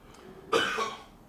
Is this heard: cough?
yes